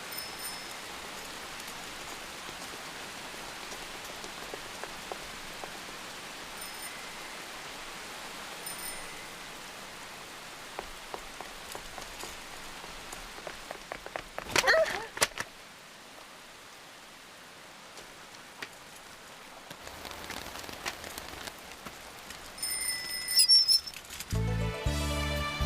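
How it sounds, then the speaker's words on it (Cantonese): Heavy rain falls in a steady soft hiss and patter at moderate distance, with a few louder bursts and shifts in the noise toward the end. "做咩咁大雨都唔避一避雨先啦？"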